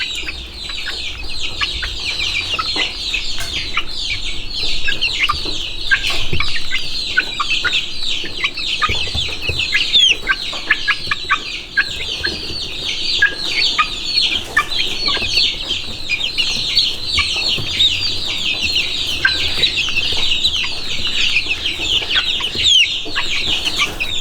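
Young bantam chicks cluck and cheep constantly at close range while being fed snacks, a dense, busy chatter of many birds that never lets up.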